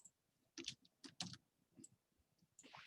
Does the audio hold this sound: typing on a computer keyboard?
yes